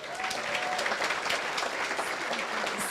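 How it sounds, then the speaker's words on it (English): Audience applause at an annual veterans' memorial dinner following a Zenshin Daiko taiko drumming performance, a dense steady roar of many hands clapping that fills the room without a break. "let's give a big round of applause for Zenshin Daiko"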